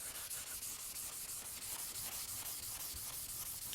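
A 3M Scotch-Brite type pad is rubbed by hand against rusty steel, giving a rhythmic back-and-forth abrasive scrubbing, close and steady, with no voices.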